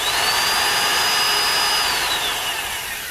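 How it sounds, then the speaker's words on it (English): A power drill bores a hole into a car exhaust pipe just ahead of the catalytic converter, giving a steady, loud, high whine that holds for about three seconds and eases slightly at the end. "Now I'm going to drill a hole in front of the cat"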